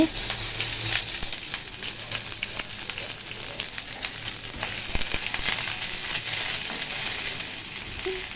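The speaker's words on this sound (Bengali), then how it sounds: "তেলে চিংড়ি মাছ দিয়ে একটু ভালো করে টেলে নেব" Shrimp frying in hot oil in a pan, a dense continuous sizzle with scattered crackles and spatters, steady and close throughout.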